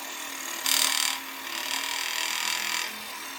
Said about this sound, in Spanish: Y procedo a hacer el corte de este arco con la caladora de banco.